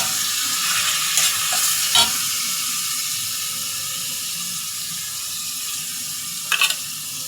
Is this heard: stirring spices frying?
yes